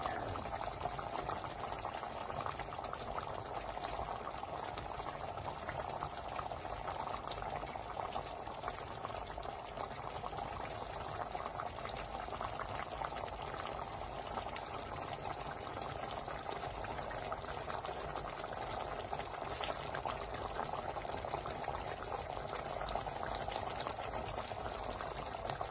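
Ginataang mackerel simmers in coconut milk with a steady, dense bubbling that fills the whole stretch without letup, close and even, with no speech over it.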